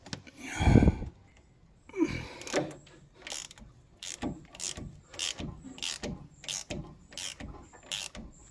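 Brake caliper piston being wound out on a Land Rover Defender 130 TD5, a stiff ratcheting tool clicking in a steady series of close, sharp strokes after a loud effortful breath.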